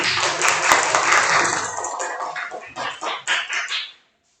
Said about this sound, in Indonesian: Oke, tepuk tangan buat tadi.